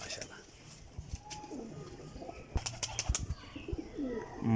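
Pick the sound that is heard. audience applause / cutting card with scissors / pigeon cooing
pigeon cooing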